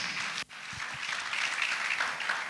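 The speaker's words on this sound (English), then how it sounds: "A round of applause, please." A conference audience applauds as a speaker is welcomed to the stage, a steady dense clapping with a brief dip near the start, moderately loud and without speech.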